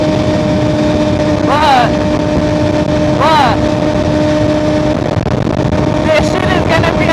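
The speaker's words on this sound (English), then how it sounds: "the wind noise is still there, but the speakers are drowning it out" Steady, loud wind roar rushes inside a KYT KX1 race helmet on a moving motorcycle, a constant broadband rumble with faint engine tones beneath, while someone speaks briefly over it.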